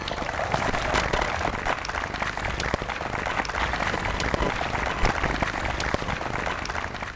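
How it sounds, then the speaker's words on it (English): An audience at Newark's 2024 State of the City address gives a high school band a round of applause: loud, dense, continuous clapping from many hands throughout, with no talking. "Can we get another round of applause?"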